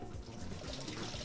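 Hot water from cooked pasta shells being strained, a steady splashing pour at moderate volume, close by and continuous with no speech.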